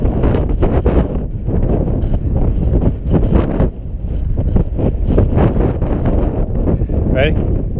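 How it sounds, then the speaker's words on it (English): Strong wind gusts buffet the microphone in South Canyon, Grand Canyon, a loud, rough roar that surges and dips continuously throughout, with a brief voice near the end. "Wind."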